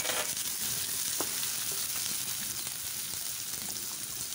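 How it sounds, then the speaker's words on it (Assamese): Chopped onions fry in hot oil in a kadai, giving a soft but steady close-up sizzle and crackle with a couple of faint stirring clicks and no talking. "এতিয়া আগতে কাটি ৰখা পিয়াজখিনি দি দিছো আৰু পিয়াজখিনি ব্ৰাউন কালাৰ হোৱালৈকে ভাজি ল'ম"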